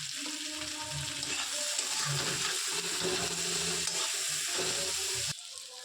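Onions fry in a pan with turmeric, giving a constant, fairly loud sizzle with bubbling and scraping stir strokes that cut off abruptly near the end, leaving quieter frying. No one speaks.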